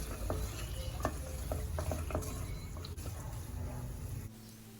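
Homemade ada rice flakes sauté in a pan for payasam, giving a quiet steady sizzle with scattered scraping stirs and light clinks before the sound drops near the end.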